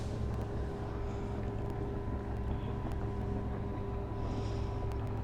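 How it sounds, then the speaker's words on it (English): Low steady engine hum of a boat approaching shore, heard from an outdoor yoga spot in nature, continuous and moderately distant with faint wind. "I don't know if you can hear the boat in the background."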